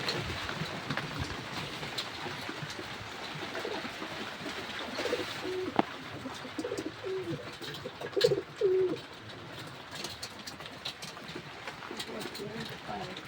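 Pet pigeons kept and fed indoors coo in low, repeated murmurs, close and moderately loud, while people talk nearby.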